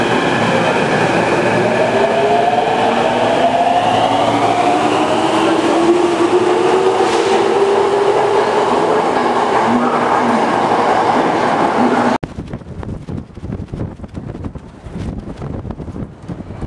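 A passenger train in Japan runs with a loud, steady rumble and a slowly rising whine, then the noise drops abruptly to a quieter, rattling interior hum.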